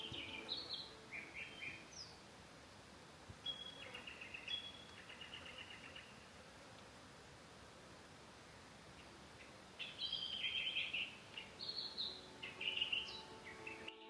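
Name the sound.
birds calling in paperbark trees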